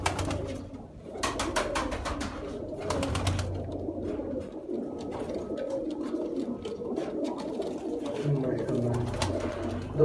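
Pigeons cooing softly and repeatedly nearby, with fluttering and rustling sounds and faint outdoor background noise throughout.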